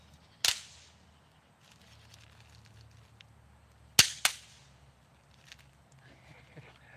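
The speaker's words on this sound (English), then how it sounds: "I'm gonna throw a few more poppers" A few sharp cracking pops from thrown snap poppers, one alone and then a quick pair, snapping out against a quiet outdoor night background in historic Williamsburg, Virginia.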